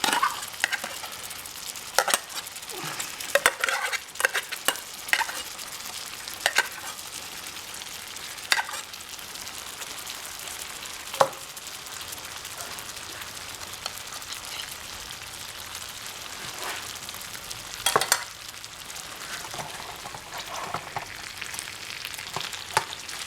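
Corned beef frying in a pan, a continuous crackling sizzle with scattered sharp pops and occasional stirring clicks, close and steady throughout with no talking.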